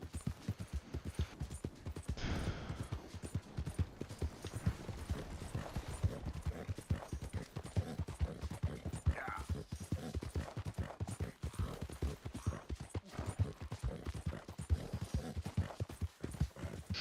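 Horse hooves clip-clop in Red Dead Redemption 2 as a steady, rapid rhythmic trot throughout, continuous and fairly close, with faint game ambience underneath.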